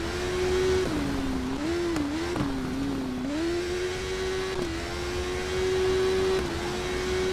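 A sport motorcycle engine races in an Isle of Man TT video game, a steady, continuous whine that dips and rises in pitch with the throttle, with no talk over it.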